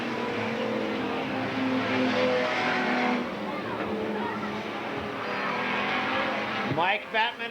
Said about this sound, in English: your leader is Mike Batman in X7, but here comes Tim Smith in the 40 car